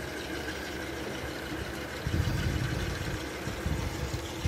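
A Daiken air conditioner outdoor unit runs with a steady low mechanical hum and broadband whir, rising slightly in level partway through, heard alone at moderate distance.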